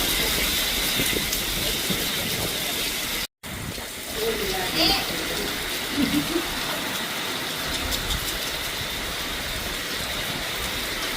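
Heavy rain pours down in a village, a steady broadband hiss throughout with voices speaking over it and a brief dropout early on.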